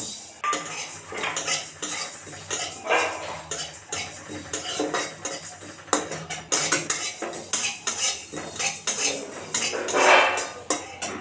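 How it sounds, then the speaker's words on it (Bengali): Mustard seeds, panch phoron and two cardamoms are dry-roasted in a hot wok. A spoon scrapes and rattles loudly against the metal in an uneven rhythm, with little sizzle. "এগুলো আমি ভালো করে একটু গরম কড়াইয়ে ভেজে নেব"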